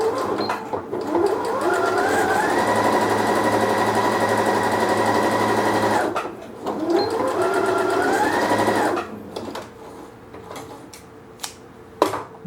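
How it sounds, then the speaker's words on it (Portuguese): Sewing machine stitching a giraffe-themed nursing pillow, two long steady runs of fast motor whir separated by a short pause, with a few clicks and handling knocks at the end. "aí a gente costura esse outro lado"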